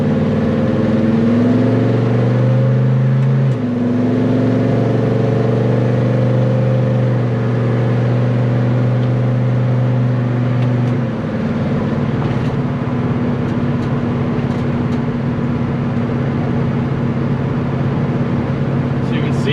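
A 1970 Chevelle SS V8 cruising at part throttle around 2,000 RPM and about 45 mph, a steady low engine drone with road and cabin noise that stays even throughout.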